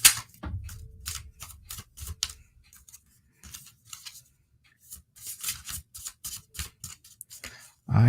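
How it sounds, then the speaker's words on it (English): A deck of tarot cards shuffled during a live reading, producing brisk papery riffles and snapping card flicks in uneven bursts with short pauses between them, close to the microphone and with no talking. "Shuffling's terrible right about now."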